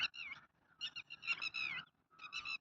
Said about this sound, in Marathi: हे वेगळेच पक्षी बघा आवाज कसे करायला लागलेत.